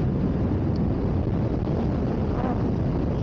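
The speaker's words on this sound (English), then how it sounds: "Right now, I'm fighting a huge headwind." Strong headwind buffets a rider's microphone in a constant, loud, low roar that never lets up, with no talking over it.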